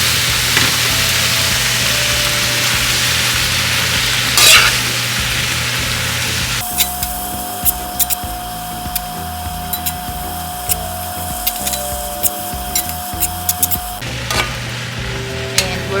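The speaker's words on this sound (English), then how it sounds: "Right away, I'm putting the greens." Collard greens sizzle and fry in a pan, a steady crackling hiss running throughout, with the character of the sound shifting partway through and light intermittent clicks and scrapes from stirring.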